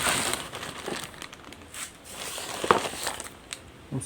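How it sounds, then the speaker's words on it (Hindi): Plastic packaging crinkles and rustles as an Amkette Xcite Pro USB keyboard is unboxed from its carton, a steady close crackling with a few sharper crunches and no talking. "इस कीबोर्ड को मैं अनबॉक्स कर रहा हूँ अभी।"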